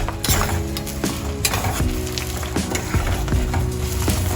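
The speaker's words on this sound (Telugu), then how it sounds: "అది వేగాలి, బాగా వేగితే" Garlic fries in a pan for tomato chilli chutney, a close, steady sizzle with occasional scrapes and clicks of stirring and no voices.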